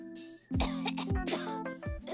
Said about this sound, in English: people are coughing like mad